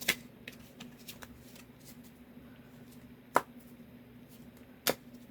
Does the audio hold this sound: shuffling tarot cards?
yes